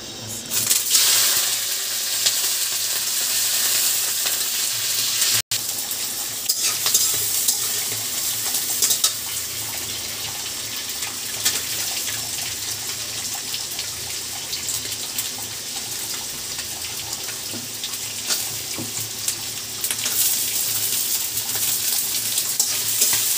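Bitter gourd with shrimp frying in a pan, cooked curry-style with turmeric, chili and coriander, a loud continuous hiss and sizzle with occasional stirring scrapes.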